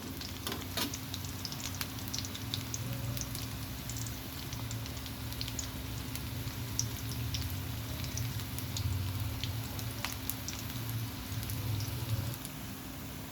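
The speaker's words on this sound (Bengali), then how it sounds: "এভাবে বারবার উল্টিয়ে পাল্টিয়ে সুন্দর করে ভেজে নিতে হবে" Lentil and onion pakoras made from masoor and pea dal frying in oil, being turned repeatedly, a continuous close sizzle with light stirring clicks and no talking.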